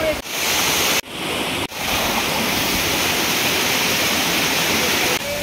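A waterfall in Odisha roars with steady, loud, broadband rushing water close by, briefly dipping twice near the start and once near the end.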